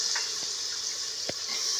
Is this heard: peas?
yes